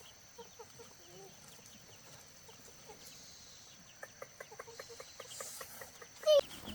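Small chickens cluck and peep softly in a farmyard alongside ducks, scattered short calls rising into a quicker run of clucks near the end, with faint background chatter and one brief louder sound at the close.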